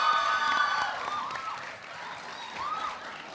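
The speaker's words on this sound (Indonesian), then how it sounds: "tepuk tangan sekali untuk adik-adik saya yang datang ke sini" A studio audience at a boyband talk show claps and cheers in a dense, close burst that eases slightly, then swells again toward the end.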